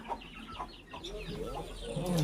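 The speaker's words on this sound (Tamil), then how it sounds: "பாருங்கள் இந்த கிண்ணி கோழி பாருங்கள்" Guinea fowl call in short repeated cackling bursts, fairly faint and at a distance, mixed with other farmyard bird sounds.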